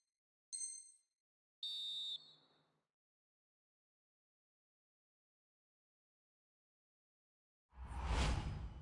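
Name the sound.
referee's final whistle in the EA FC 24 video game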